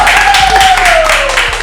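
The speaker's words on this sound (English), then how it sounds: "Let's get a good clap." A studio audience on a talk show claps at a host's urging, a brief, loud burst of applause close up, overlaid by a steady tone that slides slightly downward.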